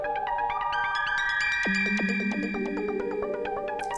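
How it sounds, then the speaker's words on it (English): Polyphonic notes from an Arturia Mini-V synthesizer plug-in with a long decay setting, chiming tones overlapping and ringing out in a steady sequence, loud and alone with no talk. "we hear each of those notes ringing out, and it gets a little bit more dreamy and a little bit more intense at the same time"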